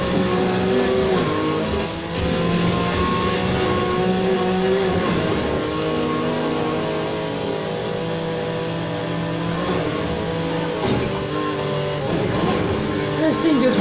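Game engine of a 2002 Mazda RX-7 Spirit R in Need for Speed Heat, a loud continuous rotary drone with shifting revs throughout, while someone talks over it.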